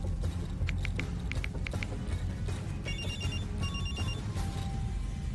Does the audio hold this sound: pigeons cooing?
no